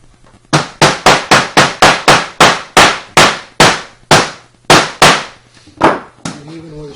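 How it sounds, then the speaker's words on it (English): A hammer driving nails near the hinges of a door being hung, about fifteen sharp, loud, close strikes in a fairly steady rhythm that slows toward the end. "it's always good to nail as close as you can to the hinges."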